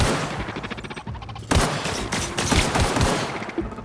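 Close gunfire in The Outer Worlds, loud bursts of rapid shots broken by brief pauses, with sharp individual cracks punctuating a dense exchange.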